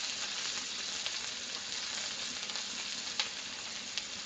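Ribeye steaks searing in a hot pan give a steady, close sizzle and fry crackle with a few sharper pops, no voices over it.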